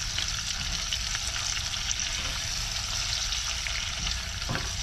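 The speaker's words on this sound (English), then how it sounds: "Let that bacon grease and all that cook this shrimp up." Shrimp frying in bacon grease in a pan, a steady close-up sizzle with crackling pops running unbroken from start to finish, no talking.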